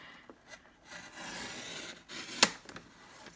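Paper trimmer slicing through two stacked sheets of thick cardstock for a stamping craft project: a soft, quiet rubbing drag of the blade, closing with one sharp, brief snap near the end.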